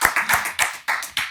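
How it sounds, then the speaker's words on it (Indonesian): A studio audience claps along on a talk show, giving a few bursts of hand claps in uneven rhythm, close and moderately loud, with no voices over them. "tepuk tangan"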